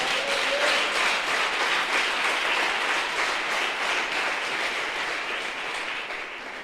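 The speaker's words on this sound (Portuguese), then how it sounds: "Você pode aplaudir o Eterno?" A church congregation applauds steadily for several seconds, a dense, even wash of many hands clapping that fades slightly toward the end.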